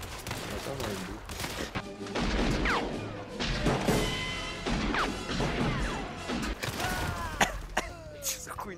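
Explosion in a video game, heard as loud crashing blasts and rumbling booms with debris and gunfire-like bursts scattered across the clip, dense and close, with occasional whooshing effects.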